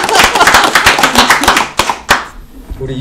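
Short burst of clapping from a small group at a Korean talk show taping, sharp close claps that thin out to a few final slaps before stopping.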